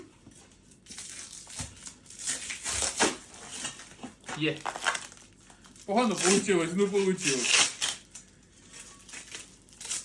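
Packing tape rips and crackles in several tearing bursts as it is peeled off a package, with someone talking in between.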